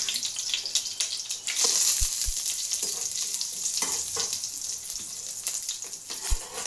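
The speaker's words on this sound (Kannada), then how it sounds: "ಬಾದಾಮು, ಏಲಕ್ಕಿ, ಲವಂಗ, ಜೀರಿಗೆ ಚೆನ್ನಾಗಿ ಸ್ವಲ್ಪ ಫ್ರೈ ಮಾಡ್ಕೊಳ್ಳೋಣ್ರಿ ಎಣ್ಣೆಯಾಗ" Almonds, cardamom, cloves and cumin frying in oil for a village-style palak paneer, with a bright continuous sizzle broken by a few sharp stirring knocks and scrapes. No one speaks.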